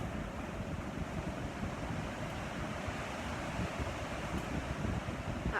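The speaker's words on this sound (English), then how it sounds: "Perhaps you can hear the gusting still in the background where I" Gusting wind blows outdoors during a stormy spell, a steady low rushing roar with mild swells, fairly faint and with no one speaking.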